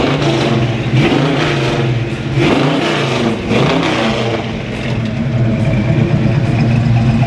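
A 1972 Chevrolet El Camino SS454 with its big-block V8 revving close by: loud, deep rumbling engine swelling and easing in a few throttle blips over a continuous low idle.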